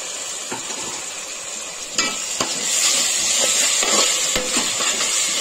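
Tomato puree frying in oil for vegetable pulao, a steady bright sizzle throughout with occasional spoon scrapes and taps as it is stirred, close up and without speech.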